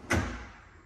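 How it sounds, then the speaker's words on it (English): Soft-close kitchen cabinet door or drawer shutting in a house, a single muffled thump close by that fades quickly into quiet room tone. "These are also soft close doors and soft close drawers"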